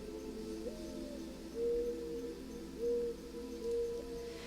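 Soft dove coos from an Android relaxation app sound faintly over a quiet, steady ambient background, with a few short, evenly spaced cooing phrases and no voices.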